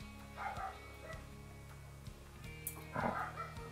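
A dog barks a couple of times at a distance outdoors, muffled and fairly faint, over a steady low hum.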